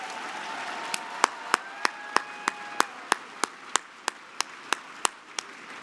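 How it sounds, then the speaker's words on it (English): Audience applause at an awards gala, heard as a steady run of sharp, evenly spaced claps roughly three per second over a quiet hall tone with a faint sustained whistle-like tone early on. "let's give a round of applause for Mr. Juan Williams"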